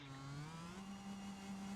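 Car engine held at full throttle in the BeamNG video game, a steady high-pitched drone with a gently rising pitch, faint and continuous throughout.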